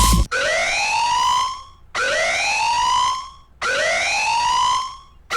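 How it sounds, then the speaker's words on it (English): Museum alarm from the Henry Stickmin video game: three loud, identical rising electronic whoops, each about a second and a half long, separated by short gaps. "the alarm sound in the museum is actually a bit different too"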